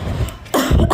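A woman who coughs compulsively lets out a couple of harsh, close coughs with a throat-clearing quality, loud and abrupt with a short gap between them.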